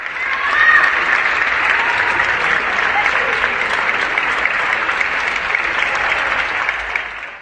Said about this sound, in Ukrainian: Кожного дня о 8 годині всі виходять на балкони і аплодують лікарям